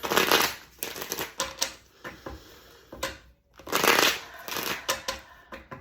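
Close-up rustling and riffling of tarot cards being shuffled, in several quick bursts separated by short pauses.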